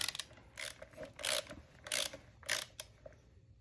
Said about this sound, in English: Pretty long bolt, so it takes a while to get her in.